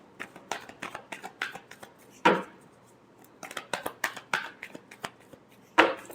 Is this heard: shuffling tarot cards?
yes